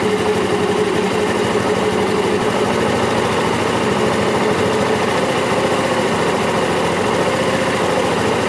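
A small engine holds a steady, loud drone at its maximum RPM while its adjustment screw is turned, the continuous buzzing whine running unbroken with no voices.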